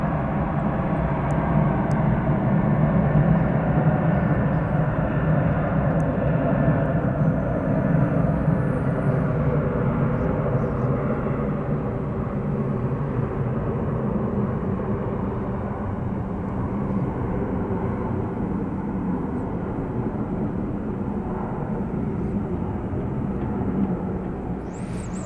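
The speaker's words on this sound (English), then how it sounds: "See in the background the Qatar flight on the move." At night at DFW Airport, a Qatar Airways Boeing 777 taxis in the distance, a steady broadband engine rumble and roar that holds evenly throughout with no talking.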